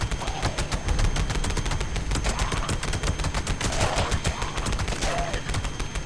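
A heavy gun in the video game Fallout 76 fires in rapid sustained bursts, with dense overlapping booming shots and impacts filling the stretch, loud and continuous.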